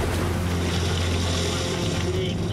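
Heavy ocean waves pound a tiny lifeboat in rough seas with strong wind, a dense, continuous roar of surf and spray, loud and unbroken for the whole stretch.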